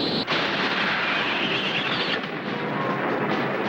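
Explosions in a Godzilla vs Megalon monster film, heard as a loud, continuous roaring blast rumble with a sharp bang near the start, sustained without talk.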